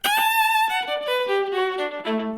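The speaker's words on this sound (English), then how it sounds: "Add that to sort of a plate reverb." An NS electric violin plays a descending melodic phrase through slapback delay and plate reverb, quick repeats trailing each note and a smooth, shimmering reverb tail filling the space behind it.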